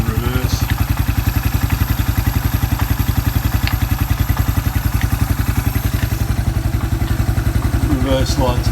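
A Suzuki Quad Runner 250 engine chugs in reverse at a slow, steady beat, loud and close, with a regular thumping pulse and light mechanical clatter the whole way through.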